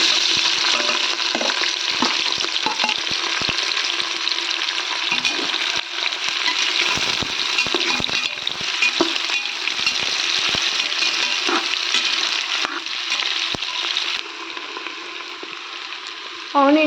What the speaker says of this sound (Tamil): ஆனியன் நல்லா வெந்து ப்ரௌனிஷாக வரணும்.